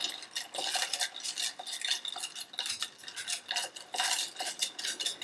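Coconut matcha being whisked in a bowl, a brisk rhythmic scraping and clinking of the whisk against the bowl, close and continuous with quick uneven strokes and no talking.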